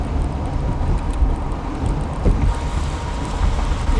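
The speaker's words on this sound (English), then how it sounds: "That wind's cold, baby." Cold, strong wind gusting during a tornado chase in Illinois/Indiana, roaring steadily and loudly against the microphone with low buffeting rumble throughout and no pauses.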